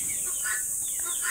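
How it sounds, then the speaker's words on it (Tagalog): Backyard laying hens, including Light Sussex birds, cluck softly and intermittently in a few short calls against a steady hiss of background noise. "Yung mga manok ko naman, patuloy ang pagitlog."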